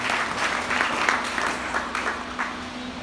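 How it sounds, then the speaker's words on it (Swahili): A congregation at a Catholic charismatic gathering claps, a loud, full burst of applause with scattered sharper claps standing out, sustained across the whole moment and fading only slightly toward the end. "Wote ni wakarismatic, pigia makofi tena."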